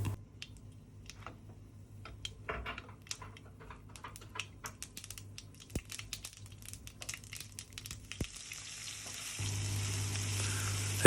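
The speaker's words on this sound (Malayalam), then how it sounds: "കുറച്ച് വെളിച്ചെണ്ണ ഇട്ട് കടുക് പൊട്ടിക്കാനുള്ള പരിപാടിയാണ്" Scattered sharp pops and crackles of mustard seeds spitting in hot coconut oil, irregular and close, building toward a steady sizzle at the end.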